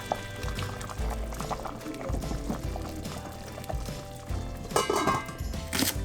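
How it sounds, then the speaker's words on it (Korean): Blanched spinach rinsed in cold water and drained: running and splashing water with sloshing and clattering in a kitchen, close and moderately loud, briefly louder near the end. "30초 정도 데친 후 찬물에 헹궈 물기를 빼줍니다."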